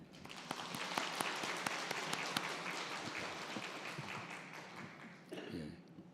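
Applause from a church congregation during a Sunday worship service, a steady wash of clapping with distinct claps standing out, dying away near the end as a voice begins.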